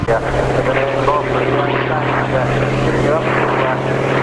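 Propeller aircraft flying at the Bournemouth Air Festival, a former Dutch Navy and Royal Australian Navy machine, giving a loud, steady engine drone with a strong low hum throughout, under faint crowd and commentary noise.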